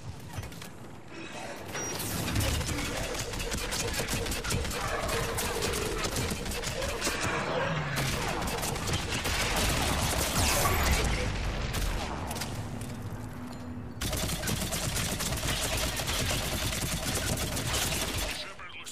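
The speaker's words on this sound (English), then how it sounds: "We're in the middle of a firefight right now." Sustained gunfire in a Mass Effect 3 firefight: rapid bursts and crashing impacts fill the scene continuously at high level, with a steady tonal hum underneath and voices mixed in.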